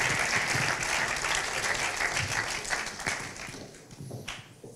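Audience at an MBA talent show giving sustained, dense applause, many hands clapping together in a steady wash that gradually thins and fades toward the end.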